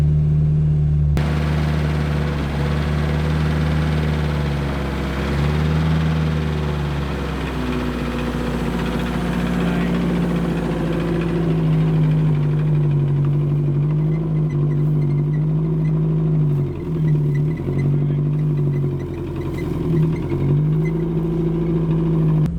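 Engine of a Mercury Capri Turbo, abandoned for 23 years, running as the car is driven, a loud constant rumbling drone with the pitch rising and dipping as it revs and shifts, and no talk.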